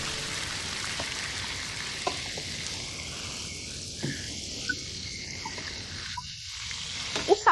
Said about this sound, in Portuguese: Estou fritando aqui enquanto você come lá.